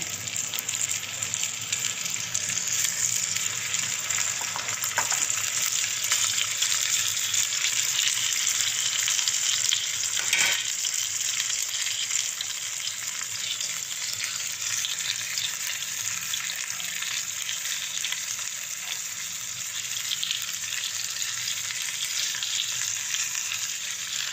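Chicken frying in a pan, a loud, dense, continuous sizzle that holds steady from start to finish, with a brief stir or shift partway through and no talking.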